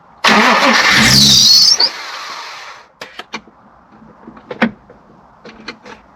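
The 3.2-litre V6 of a 1994 Honda Legend cranks and catches with a loud burst up close. It settles into a brief idle and falls quiet, followed by scattered clicks and knocks nearby.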